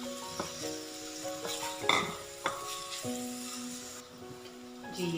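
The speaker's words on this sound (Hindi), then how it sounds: "फ्राई कर लेंगे ऑयल में।" Chopped onions frying in hot oil as a Kashmiri chicken base, a soft steady sizzle with stirring scrapes and light clinks of a spoon against the pan, close and moderately quiet.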